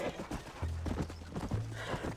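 A horse trots in the video game Red Dead Redemption with a rhythmic clip-clop of hooves, close and moderately loud, with a snort and a low game drone beneath.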